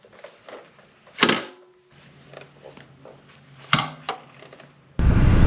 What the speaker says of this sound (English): an annoyingly loud clunk of the kickstand when you kick it up